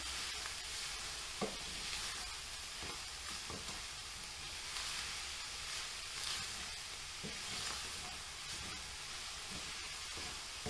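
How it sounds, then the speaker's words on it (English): Browned ground meat stirred back in with vegetables in a hot frying pan for a cottage pie: a continuous dense sizzle with repeated scraping and stirring strokes, close and steady, without voices. "We are going to add our meat back in. Mix it all together."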